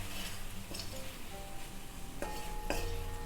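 Araipuli kuzhambu mixture with chilli powder and rice flour roasting in a pan, a soft steady sizzle with a few light metallic clinks and scrapes of a spoon against the pan.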